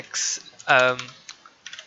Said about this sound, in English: we're going to need to press S on the keyboard